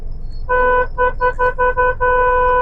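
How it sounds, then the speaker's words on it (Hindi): A car horn honks in a burst of short, repeated beeps, then one longer blast, loud and close. "जब तक तू निकल नहीं जाता ना तब तक तो हॉर्न दूंगी मैं तेरे को"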